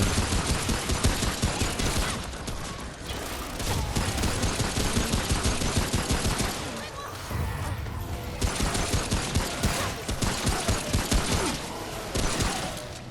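Sustained gunfire in the cooperative shooter Remnant: From The Ashes, a dense, loud barrage of rapid shots with brief pauses between volleys, continuing almost without letup.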